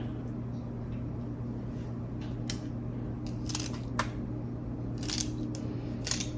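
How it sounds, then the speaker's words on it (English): Celery stalks are cut into pieces with several crisp, irregular snaps and chops, sharpest toward the end, over a steady low kitchen hum. "just cut it up. Pull your strings off as you cut"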